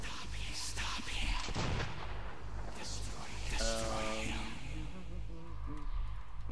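Gunfire in the Metro 2033 video game, a dense burst of shots over a constant low rumble, with a harmonic tone mid-clip and a voice talking over the action.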